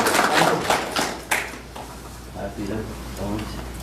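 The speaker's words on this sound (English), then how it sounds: "we can give you a little round of applause" Brief patter of a few people clapping at a regular mayor and council session, scattered hand claps in the first second and a half before voices take over.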